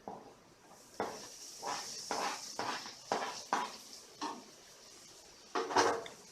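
A spoon scrapes and clinks repeatedly against a pan as chopped tomatoes are stirred into a spiced mixture, giving about nine uneven strokes over a soft sizzle.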